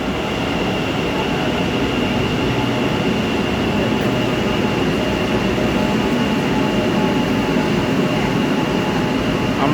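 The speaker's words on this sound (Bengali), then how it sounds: "ট্রেন এসে গেছে।" A Kolkata Metro train on a newly opened line pulls into the station with a steady, loud rumble that lasts throughout, and a faint high whine rides over it. No one speaks.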